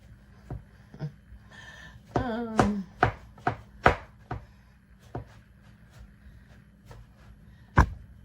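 A knife chops through a raw rutabaga on a board in a series of sharp, close cuts, several quick strokes clustered early and then sparser single chops with pauses between them.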